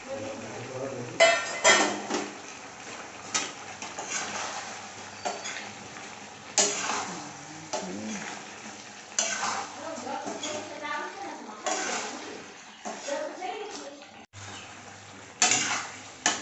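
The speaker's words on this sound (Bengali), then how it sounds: "এখন মটন কষানো চলছে।" Mutton and potatoes being stir-fried in a pan in a home kitchen, with a spatula scraping and clinking against the metal in an irregular rhythm over a low sizzle, close by and moderate in level.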